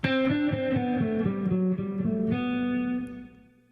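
Overdriven electric guitar plays a rapid sixteenth-note exercise figure, evenly picked notes stepping through a short pattern before fading out, heard alone.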